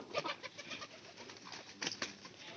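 Pigeons kept in a loft coo softly and intermittently at a moderate distance, with a low, murmuring background of birds and a couple of brighter flutter-like bursts late on.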